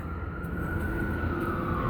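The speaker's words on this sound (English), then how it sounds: "Sirens down the street." A distant emergency vehicle siren drifts down a city street, a thin, slowly gliding wail over a low rumble of traffic and background hum.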